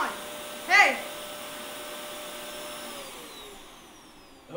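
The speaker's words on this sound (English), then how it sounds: "the sound of you vacuuming is kind of distracting" A vacuum cleaner runs steadily indoors as a continuous whining drone, with a brief shouted voice near the start and the motor winding down near the end.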